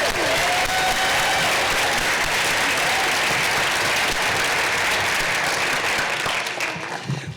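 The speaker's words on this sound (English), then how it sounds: "if we could have one more round of applause" Sustained audience applause at a Board of Education meeting honoring scholarship winners Jesse and Allie, dense steady clapping from a room full of people that fades out near the end.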